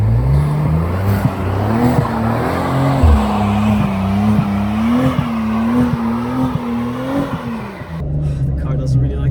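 An Audi RS4 B9 with quattro drive strains to push a truck out of snow, its engine revving hard and droning loud and close while the wheels spin and squeal. The engine pitch wavers up and down for several seconds, then drops away.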